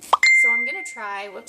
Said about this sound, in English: That was my phone if you heard it.